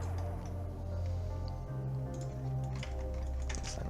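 Computer keyboard keys pressed during 3D modeling in Blender: soft, scattered clicks sit beneath a steady, continuous background music bed.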